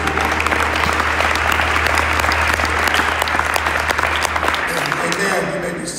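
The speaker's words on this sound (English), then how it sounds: "Give the Lord another hand clap before You're seated." A church congregation claps together in loud, steady applause that fills the room before tapering off at the end.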